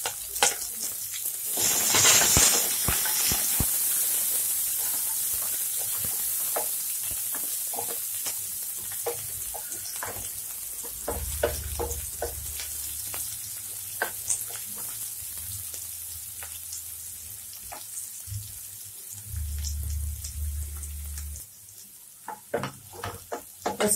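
Spring onion frying with garlic and green chilies in a pan gives a steady close sizzle with scattered crackles and stirring scrapes, running alone without talk and fading lower near the end.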